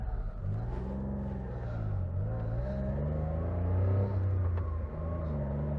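A 1993 Honda Beat, a small right-hand-drive car, being driven, its engine droning steadily with rising and falling pitch as it revs and shifts, close and continuous, no voices heard.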